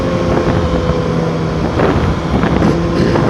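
Kawasaki Ninja 650 motorcycle engine revving hard at a demo day, a loud continuous roar with rising pitch surges, buffeted by heavy wind noise, no speech.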